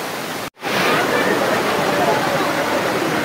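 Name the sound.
Tanawan Falls waterfall in Dingalan, Aurora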